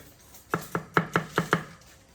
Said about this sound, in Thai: นี่ครับหั่นเลย